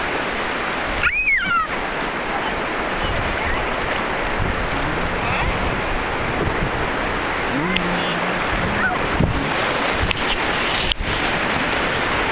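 Ocean waves at Santa Rosa Beach roll in as a constant loud broadband roar of surf, mixed with wind buffeting and a brief high cry near the start, with faint voices in the background.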